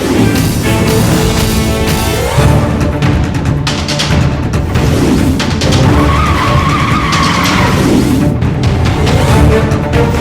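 A car skids loudly in a crash, a long harsh tire screech with engine roar that rises and falls over about ten seconds, close and dominant with no talking.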